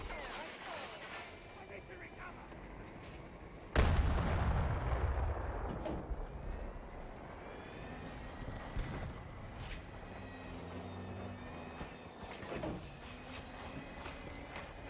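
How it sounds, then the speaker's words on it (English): Gunfire in the shooter game Battlefield 2042, a sudden loud burst of shots followed by rapid firing and scattered reports from varying distances across a noisy battlefield, with someone talking over parts of it. "someone is shooting a heck of a lot"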